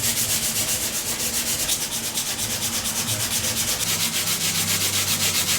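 Steady, close rubbing and sanding of the rubber coolant hoses on a Saab 9000 CSE engine, a continuous abrasive hiss with a regular back-and-forth rhythm and no talking.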